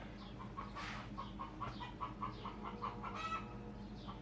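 Chickens cluck in a steady, repeated series of short calls, fairly close, with a low steady hum running underneath.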